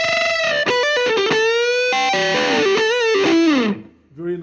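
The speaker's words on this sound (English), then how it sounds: "So there's a very nice distortion pedal sort of built into it." Heavily distorted electric guitar through the built-in distortion of a Nux Mighty 8 practice amp, loud sustained chords and bent lead notes ringing for about four seconds before cutting off, then a brief note at the end.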